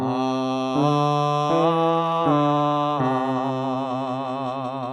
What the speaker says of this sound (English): Now here's a quick example of a simple melody.